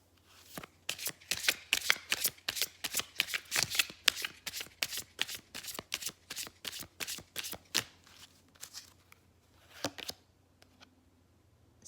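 Tarot cards being shuffled for an Aquarius moon reading, a steady run of quick riffling bursts close by that repeats for several seconds, then stops with a couple of final taps.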